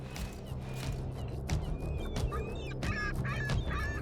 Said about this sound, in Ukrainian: Там, до речі, оці чайки літають.